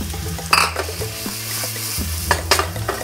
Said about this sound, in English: as the garlic starts to puff up a little bit, we're gonna go ahead and put the mushrooms in